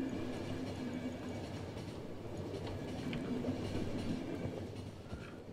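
Steady rolling rumble of a train running on rails in The Final Station, continuous and fairly loud, with faint rhythmic wheel clatter and a low hum throughout, no voices.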